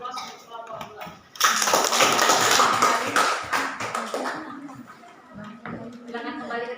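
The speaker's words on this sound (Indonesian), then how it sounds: "Kita berikan aplaus untuk kelompok 2." Classroom applause for a student group after their presentation, a burst of clapping rising at about one and a half seconds and fading by five, with a teacher's voice speaking before and after it.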